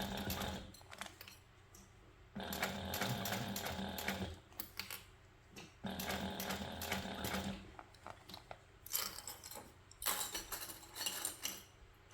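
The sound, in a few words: sewing machine basting lining to bag exterior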